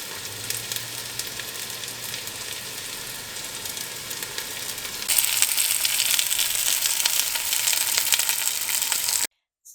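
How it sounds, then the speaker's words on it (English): Meat searing in a hot pan, a loud steady sizzle and crackle that grows stronger and brighter halfway through, then cuts off abruptly near the end, with no talking. "I'm going to sear it."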